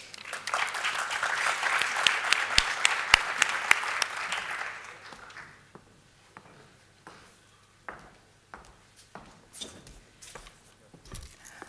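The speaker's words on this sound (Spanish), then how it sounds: "Un aplauso para Gabriela." An indoor conference audience applauds a speaker with dense clapping that swells and then thins out into a few scattered claps and light shuffling, fairly close.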